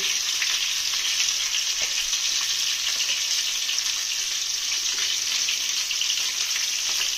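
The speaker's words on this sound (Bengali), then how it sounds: "আলুর দম একটু লাল লাল করে আলুগুলো ভেজে নেবো।" Potatoes fry in hot oil in a kadai for aloo dum, a loud, even, continuous sizzle heard up close with no pauses or talking.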